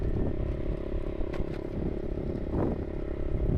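Motorcycle rattling over a bumpy, rough road, with steady low engine rumble and continuous clattering and shaking, plus a few brief scrapes.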